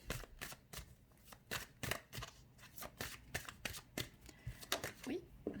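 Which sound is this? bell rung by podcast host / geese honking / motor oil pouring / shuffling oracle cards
shuffling oracle cards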